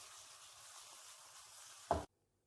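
Spicy potatoes for aloo bhujia frying over a high flame, a steady soft sizzle that ends with a short stirring clatter before cutting to silence.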